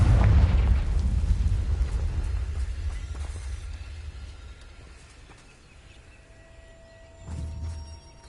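A Confringo blasting spell goes off in Hogwarts Legacy with a loud, deep explosion up front that rolls into a long fading rumble, then a second, smaller blast near the end.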